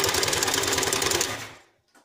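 High-pressure misting pump running with too little inlet water pressure, a fast rattling mechanical chatter that is loud and steady, then cuts off abruptly, leaving near silence.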